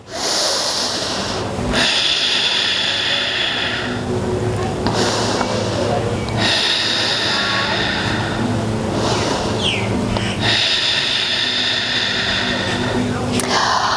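Steady audible breathing of an outdoor yoga class on Koh Lipe, moving through revolved triangle pose: long broad inhales and exhales in slow repeating waves, with soft background ambience running underneath throughout.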